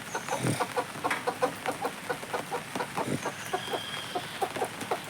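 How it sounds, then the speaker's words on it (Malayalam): A broody hen clucks in a steady rhythm of short, low, repeated calls, close and moderately loud, with no talk. "ഇത് നല്ലൊരു അടക്കോഴിയാട്ടോ"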